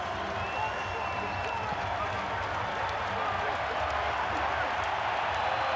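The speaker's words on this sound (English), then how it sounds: "Oh, the crowd's gone up." A rugby stadium crowd at a Wallabies versus France match in Brisbane keeps up a continuous, broad roar of cheering and applause. A commentator speaks over it throughout.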